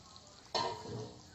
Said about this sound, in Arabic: عشان هنحمر التومه بقى بالسمنه البلدي